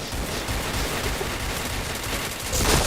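Dense bursts of gunfire from a shooter video game rattle on continuously, loud and close, with a louder flurry near the end.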